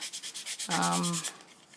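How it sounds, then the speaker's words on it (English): Rhythmic rasping of sandpaper rubbed back and forth on paper edges, close and steady, with a brief tonal squeak partway through; no talking. "You can even sand into the middle a bit to give it a bit of a distressed edge"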